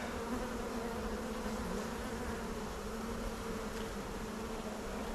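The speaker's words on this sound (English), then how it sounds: "There's a bee right there." A honeybee swarm buzzes on a hive frame: a dense, steady, close hum of many wings, continuous and unbroken, with no voices.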